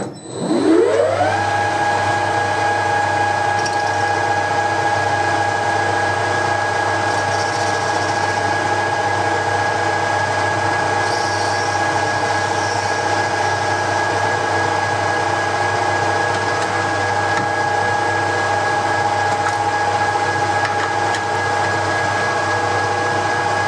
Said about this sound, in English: We'll start off by facing this end